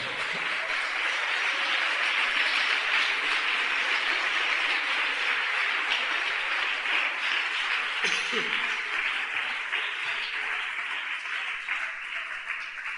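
A church congregation claps together in steady, dense applause that holds at an even level throughout, with a brief voice or bump partway through.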